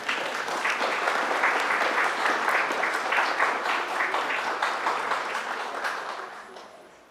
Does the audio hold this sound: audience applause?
yes